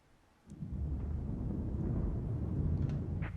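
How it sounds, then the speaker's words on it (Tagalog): Thunder from a storm rolls in abruptly as a deep, low rumble that holds steady and sustained for several seconds, moderately loud and without any speech over it. "Ang ingay ng kidlat."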